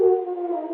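A steady howl sound effect used as a desert call in a 1932 radio drama, a brief sustained tonal wail lasting under a second, heard alone.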